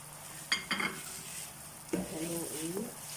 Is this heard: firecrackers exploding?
no